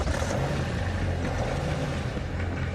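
A BMW 535d diesel engine fires up and settles into a steady, loud, gruff idle, its low rumble continuous and close throughout.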